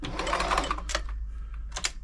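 A Frister & Rossmann 904 sewing machine runs in short bursts of quick mechanical clatter, close and fairly loud, stopping and starting over about two seconds with no one talking.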